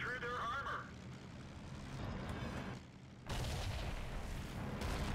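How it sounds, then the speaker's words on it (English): In the World of Tanks game, a high-explosive shell hits with a heavy boom over a continuous rumble of engines and combat noise, followed by another surge of blast and roar, all fairly quiet in the mix. "When he hit me, I knew it was HE based on the explosion sound."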